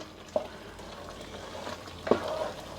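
Prawn curry frying in a pan, stirred now and then, with two brief scraping clatters of the spoon over a faint, steady sizzle and no talk.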